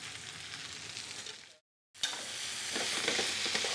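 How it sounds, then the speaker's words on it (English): Potatoes cook in a hot pan with a steady frying sizzle and stirring noise, broken by a brief silent gap before the sizzle returns slightly louder. "you see how nice those potatoes are cooking?"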